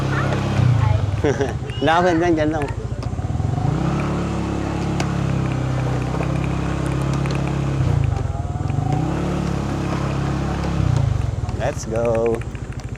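Motorcycle rolling into a motorcycle parking area near a beach resort, its engine idling and lightly revving nearby with a couple of short revs, under a rider's talking.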